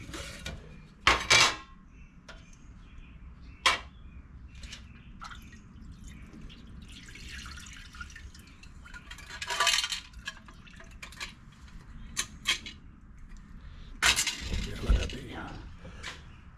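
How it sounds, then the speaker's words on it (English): Water drips from a drying carburetor off a Honda GX200 engine on a Dewalt pressure washer, scattered irregular drips and small metallic taps over a quiet hum, with a few louder clattering knocks. "Let it be drip drying."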